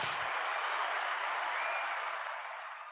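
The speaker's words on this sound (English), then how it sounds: "I'm give myself a round of applause" A round of applause on a live call-in show: a dense, steady wash of clapping from the very start that holds evenly and tapers slightly toward the end.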